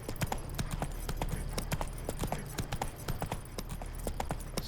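Roach, the horse in The Witcher 3, gallops in a rapid, even clip-clop of hooves, steady and close for several seconds with no talking over it.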